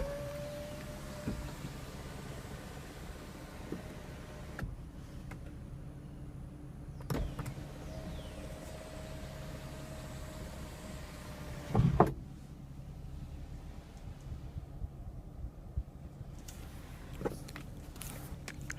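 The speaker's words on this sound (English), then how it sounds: "Now the moonroof can be tilted up for ventilation or slides open for an open air feeling." The power moonroof of a 2014 Toyota Camry XLE V6 tilts and slides open, with quiet electric motor whines in several separate runs, soft clicks and a louder thump near the middle inside a still cabin.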